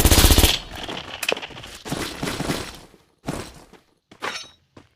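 Gunfire in the Free Fire battle royale video game, with a loud opening burst followed by several sharp shots and cracks that come in short bursts and decay quickly, close and with no talking.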